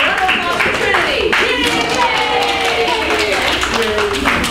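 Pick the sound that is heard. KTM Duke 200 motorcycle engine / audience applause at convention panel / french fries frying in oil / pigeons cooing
audience applause at convention panel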